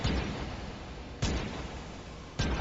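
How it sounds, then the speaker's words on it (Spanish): Gunshot sound effects ring out inside a house in a Spanish-language audio story: three loud, booming shots about a second apart, each with a sharp crack and a rumbling, echoing tail. "Al interior de la casa se escucharon disparos."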